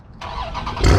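A Dodge Challenger or Charger cold-starts, a brief cranking burst quickly catching and surging into a loud, close engine roar within about a second.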